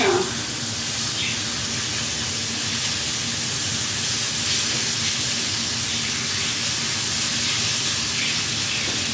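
Bacon sizzles in a pan on low heat, a steady, close, dense hiss that continues unbroken for the whole stretch with no distinct pops.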